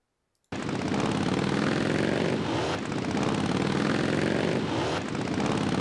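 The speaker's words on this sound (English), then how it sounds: "Motorcycles, of course." Motorcycle engines in the West Front war game burst in abruptly and drone loudly and steadily, with a dense, buzzing tone and brief sharp clicks mixed in, and no voices.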